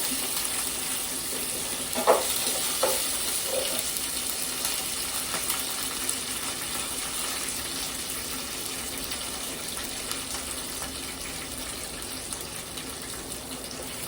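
Ginger pieces and curry leaves fry in hot oil in a pan for semiya upma, a steady soft hiss with a few sharp crackles bunched near the start, no voices.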